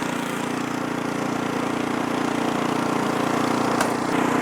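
An Ariens Deluxe 24 snow blower engine runs steadily in top gear, a loud, constant mid-pitched drone with no change in rhythm and a brief sharp click near the end.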